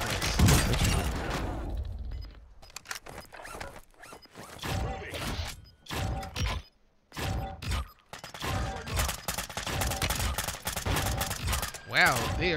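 Controlled bursts of automatic gunfire from the video game Call of Duty Warzone 2.0 crackle in short, choppy volleys with brief gaps between them, loud and busy with game noise around them.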